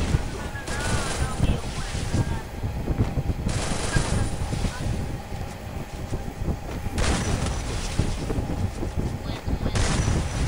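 Repeated bursts of gunfire from the battle-royale shooter Free Fire crackle in loud clusters for about ten seconds, layered over steady game noise and background voices.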